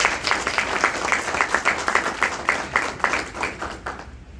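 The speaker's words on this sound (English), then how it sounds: "I think we owe them yet another round of applause real quick." A graduation ceremony audience applauds the graduates with steady, even clapping that fills the room at moderate loudness before fading out near the end.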